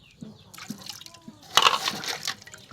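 Water splashes and sloshes as a large water jar is scrubbed and rinsed, coming in close, uneven bursts of splashing and dripping after a quieter start, with voices briefly audible.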